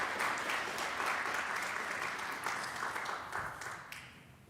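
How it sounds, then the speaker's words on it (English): Audience applause at a TEDx event in Eastchester, a sustained, fairly distant wash of many hands clapping that tapers off near the end. "Big round of applause for Constantine"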